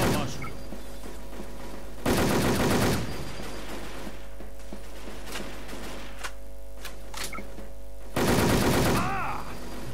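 Gunfire in the online shooter WolfTeam: two loud bursts of rapid automatic shots, one near the start and one near the end, with quieter scattered shots and game noise between.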